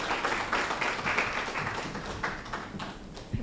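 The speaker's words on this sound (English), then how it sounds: "Round of applause for them as they come up on stage" An audience at an education talk claps as guests walk up onto the stage, a moderate burst of many hands clapping together that stays steady for a few seconds.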